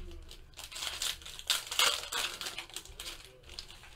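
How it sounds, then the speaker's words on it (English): 2017 Topps Tribute MLB baseball trading card packs being torn open, close crinkling and ripping of foil wrappers in quick irregular bursts, with no one speaking. "Carefully open the packs to not damage the edges of the corners."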